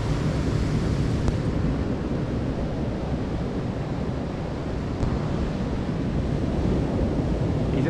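Sea waves wash steadily onto a Welsh shore, a continuous broadband surf roar with wind buffeting the microphone, no voices, with faint brief swells around the middle and end.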